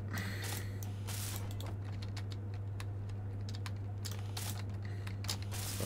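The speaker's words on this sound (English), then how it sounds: "Let's weld this up." Welding tool in Space Engineers: rapid clicking, ratcheting mechanical bursts over a steady low electrical hum, continuous and fairly close, with no talk.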